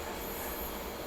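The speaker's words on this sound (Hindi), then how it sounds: "चलिए उधर से सोमनाथ जबलपुर एक्सप्रेस भी आ गई है" Somnath Jabalpur Express rolling in: a steady, close, broadband rumble and rush of railcars and wheels on track, continuous and loud throughout, with no voices.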